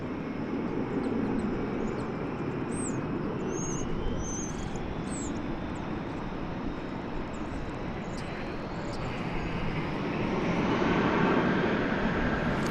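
An American Airlines plane in America West livery at DFW airport, its engines giving a continuous broad roar that holds steady and swells slightly toward the end, distant but loud, with birds chirping faintly above it.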